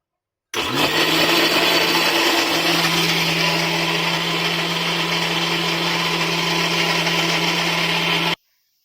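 A mixer grinder grinding soaked rice for idli batter whirs loudly and steadily for several seconds, starting and stopping abruptly, its motor pitch settling as it grinds.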